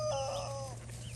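A hen clucks and calls in a short burst up close, over a steady low mechanical hum.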